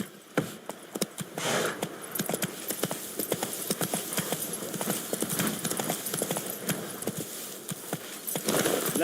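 Horse hooves clip-clopping at a steady trot in The Witcher 3, a brisk, even rhythm of close hoof strikes that continues throughout over a bed of game ambience.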